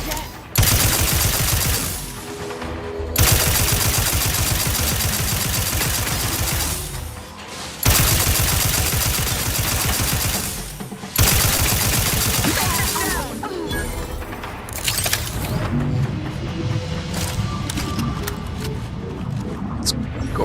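Heavy sustained gunfire in The Outer Worlds 2, long loud bursts of rapid shots broken by brief pauses, then scattered cracks and impacts toward the end.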